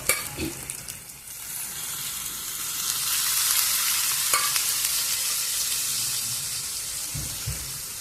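Cooked moth beans go into a simmering curry in a pan and are stirred through, a steady wet sizzle with scraping and stirring noises that swell in the middle of the clip, with no talk.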